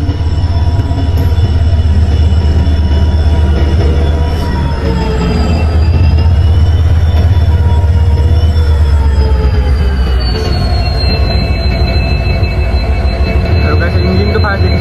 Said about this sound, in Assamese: আৰু গাইস ফাইনালি ট্ৰেইন আহি গ'ল